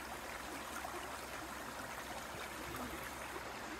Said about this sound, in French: Là regardez le petit cours d'eau là.